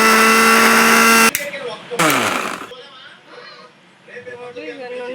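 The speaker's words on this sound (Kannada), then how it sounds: "ಈ ಮಿಶ್ರಣವನ್ನು ಮಿಕ್ಸರ್ಗೆ ಹಾಕ್ಕೊಂಡು ಬರೋಣ" A kitchen mixer grinder blends a roasted spice mixture, its loud steady whirring motor running in a dense burst that cuts off abruptly, briefly starts again, then gives way to quieter background sounds and faint talking.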